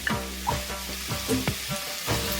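Potatoes and beef for a beef curry drop into a hot pot and sizzle loudly, with a steady frying hiss punctuated by a few soft plops and stirring scrapes.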